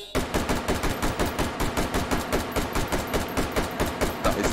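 A standard rifle fires in rapid, evenly spaced semi-automatic shots in the VR game Hot Dogs Horseshoes & Hand Grenades, around twenty loud, sharp reports in steady rhythm with no pauses.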